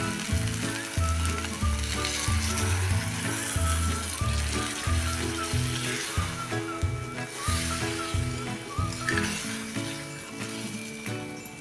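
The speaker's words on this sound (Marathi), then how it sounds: "आता ही गवारी शिजण्यापुरता आपण ह्यामध्ये पाणी उचलून घेऊया" Cluster beans cooking in a pan with yogurt and tomato as water goes in, giving a loud, steady sizzle and bubbling hiss with occasional stirring clatter throughout.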